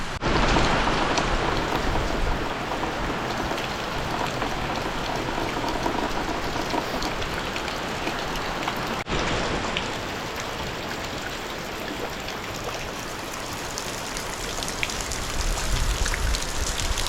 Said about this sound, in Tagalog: Nandiyan na naman ang ulan.